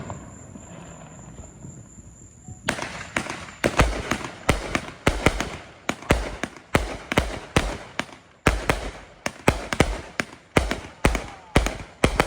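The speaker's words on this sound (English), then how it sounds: "So here's Nishiki Freedom from Dominator Fireworks." Nishiki Freedom 500 gram firework cake from Dominator Fireworks fired on a Fourth of July night, opening after a quiet lull into a rapid, loud series of sharp booming shots, a dozen or more in uneven rhythm, with crackling between bursts.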